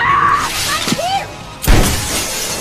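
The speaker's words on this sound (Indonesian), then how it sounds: "Tetapi Cat menerobos atap dan mendarat di atasnya" Glass roof of a greenhouse shattering in a film scene, a sudden loud crash bursting in midway after a tense rising tone, then a scatter of breaking debris trailing off.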